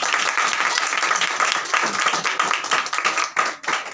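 A church congregation claps loudly and steadily for Jesus, a dense, continuous wave of applause filling the whole stretch with no let-up.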